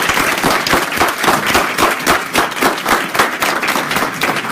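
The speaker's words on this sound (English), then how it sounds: "Give yourselves a round of applause as you stand up." A standing audience at a live income presentation applauds, a dense, steady wash of many hands clapping close by that holds at an even level throughout.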